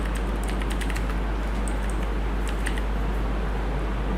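Steady run of computer keyboard typing with quick, irregular key clicks close by, over a constant low hum and no speech.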